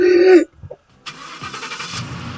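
A bus engine in the Roblox video game starts and runs: a brief tone, a short gap, then a steady mid-pitched engine drone with some revving, close and moderately loud.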